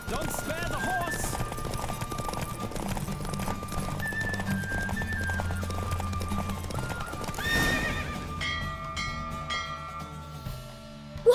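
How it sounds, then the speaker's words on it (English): In The Witcher 3, a galloping horse pounds out continuous, close clip-clopping hoofbeats, and a loud neigh rises about two-thirds of the way through before the hooves slow near the end. "Don't spare the horse!"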